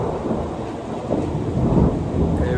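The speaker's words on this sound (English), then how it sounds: "Shortly after I got back, the thunder and lightning started" Thunder during a thunderstorm, a continuous deep rumble with rain noise mixed in, steady and fairly loud throughout, no voices.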